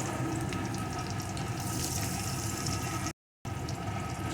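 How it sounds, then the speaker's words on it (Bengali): Chopped garlic and onion fry in a pan with a steady, dense sizzle, close and continuous, broken by a brief silent gap near the end before the sizzling resumes. "রসুন কুচিটা একটু ভেজে নিয়ে এর ভিতরে দিয়ে দেবো পেঁয়াজ কুচি"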